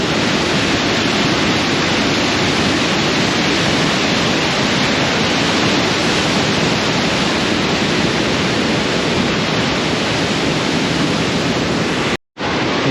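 A powerful torrent rushes through a Swiss canyon gorge near Leukerbad, a constant thick roar that holds evenly and cuts out for a split second near the end.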